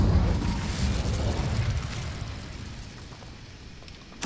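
Incendio fire spell cast in Hogwarts Legacy, a whooshing burst of flame with a rumbling low roar that fades over a few seconds, ending with a sharp crackle.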